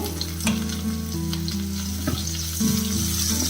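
Red onions and crushed ginger sauté in hot oil, giving a loud, constant sizzle with repeated stirring scrapes at a brisk rhythm, close up and with no voices.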